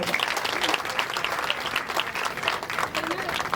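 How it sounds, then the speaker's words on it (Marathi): Applause from a crowd at a Women's Day event honoring working women, a continuous, fairly loud burst of many people clapping with rapid, even patter throughout. "एकदा जोरदार टाळ्या होऊन"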